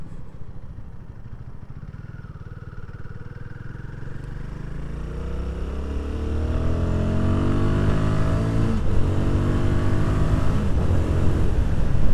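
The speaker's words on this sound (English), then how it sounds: "That was clutchless gear changes." A Royal Enfield Guerrilla 450 motorcycle engine climbs steadily in pitch and grows louder, with brief dips at clutchless gear changes. Wind rush runs underneath, and no one speaks.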